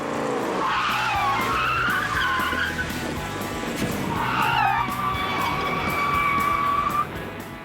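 Replica roadster and Shelby 427 Cobra braking hard from speed, tires squealing and skidding in two long screeching bursts separated by a brief lull, moderately loud with engine rumble beneath.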